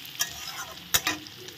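Fried paneer lifted out of hot oil in a pan for Kashmiri aloo paneer, with a brief soft sizzle and a couple of sharp scraping clinks from the utensil.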